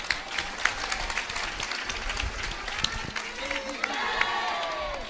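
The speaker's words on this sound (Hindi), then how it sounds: "अब ताली बजाओ।" An audience claps in scattered, uneven bursts under a crowd murmur, with voices talking over the clapping throughout.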